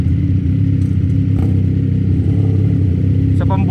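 A motorcycle's loud, short exhaust pipe drones steadily and close for the whole ride near Binangonan, Rizal, with a raspy, continuous engine note and no pauses.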